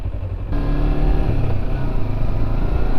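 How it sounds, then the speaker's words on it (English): A sport touring motorcycle's engine hums steadily and close while riding on a road, a continuous loud drone with wind noise and no talking. "It's a sport touring bike."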